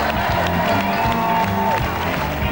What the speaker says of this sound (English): A huge, big round of applause